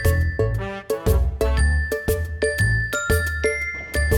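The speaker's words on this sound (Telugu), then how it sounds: "డాడీ నీకు ఫోన్." A phone rings with a bright, tinkling electronic ringtone that repeats a short melody of chiming notes steadily, fairly close and alone.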